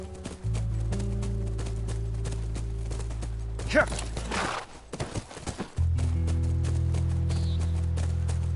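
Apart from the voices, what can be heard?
horse hooves clip-clopping in the video game The Last of Us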